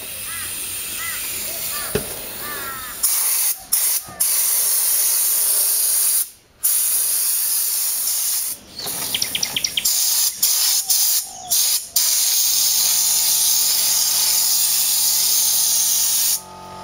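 Spray gun hissing in bursts while painting the underside of a Subaru Brumby ute, with loud steady spraying broken by short pauses and a few brief gaps.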